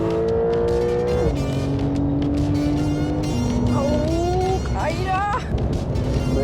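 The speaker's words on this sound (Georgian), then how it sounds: "მანქანა მოადრიტავა" A Porsche 911 engine revs hard and accelerates while drifting through a corner, its pitch climbing and dropping through gear changes with a brief squeal-like whine near the end, loud and close.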